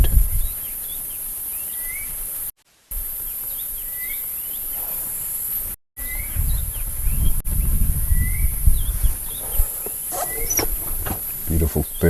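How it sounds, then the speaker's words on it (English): A southern boubou calls on a live African safari drive, giving repeated short whistled notes at a moderate distance, heard over insect buzz and low vehicle rumble while a person talks. "There's the southern boo-boo that's busy calling."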